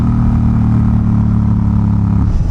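Unmuffled Honda Rebel 1100 motorcycle decelerating under engine braking, a loud, steady low rumbling burble with crackly off-throttle pops, close by and with no talk over it.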